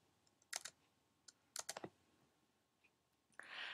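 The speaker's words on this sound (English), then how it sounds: "you can simply delete them by clicking the delete key" Clicking keys on a computer keyboard, including the delete key: a few quiet, crisp taps in small clusters against near silence, close up, ending in a brief rustle.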